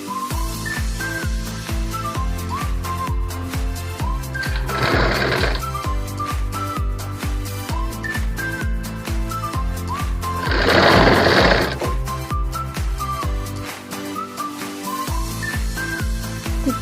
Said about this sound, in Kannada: ಲೈನಿಂಗ್ ಮೇಲೆ ಒಂದು ಸ್ಟಿಚ್ ಹಾಕ್ಕೊಳ್ಳಿ.